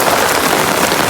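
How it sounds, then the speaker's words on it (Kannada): Heavy rain pouring down on a walker's umbrella, a loud, dense, continuous hiss of drops with no pauses. "ಸಖತ್ ಹೆವಿ ರೈನ್ಫಾಲ್ ಇವತ್ತು."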